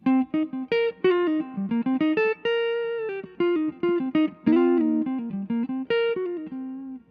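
Clean electric guitar through an Xotic booster pedal plays a lively run of single notes and short chords, boosted and slightly rounded, close and fairly loud with no voices.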